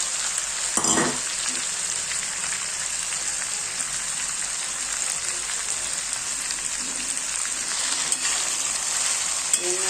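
Chopped ridge gourd frying in a pan, a dense, constant crackling hiss like rain that stays loud and even across the whole stretch, with a couple of brief scrape or knock accents as the pieces are turned.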